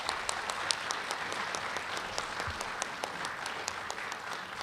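A round of applause from parents and guests for a group of high school students being recognized, dense continuous clapping from many hands at an even level, no talking on top.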